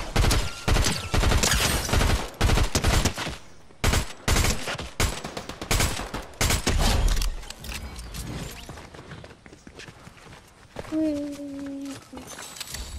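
Fortnite gameplay gunfire crackles in rapid loud bursts, with pistol and sniper shots mixed in, then thins into scattered reports and mechanical clicks while people talk over it.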